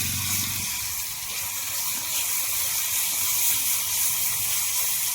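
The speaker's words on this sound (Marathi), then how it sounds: "आता पेस्ट मस्त परतून घेऊ" Ground masala paste frying in hot oil for a Maharashtrian egg curry: a steady, close, bright hiss and crackle that holds evenly throughout, with no talking.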